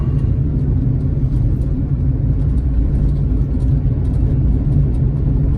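Cars passing on a road to the beach, with steady low engine and tyre rumble from vehicles nearby throughout, no talking.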